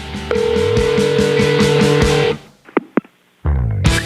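A telephone voicemail system plays a loud, sustained electronic tone, then after a short gap come several sharp beeps and a brief burst of tone.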